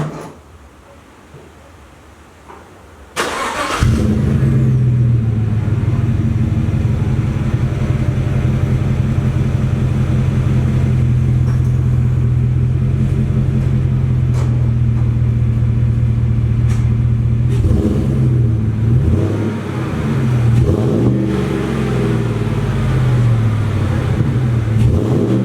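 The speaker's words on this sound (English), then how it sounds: "Down here we have the AFE exhaust, and this is what it sounds like." After a brief quiet moment, a 2014 Chevrolet Silverado pickup starts up with a deep, throaty AFE aftermarket exhaust rumble, idling loudly and then revving a couple of times near the end.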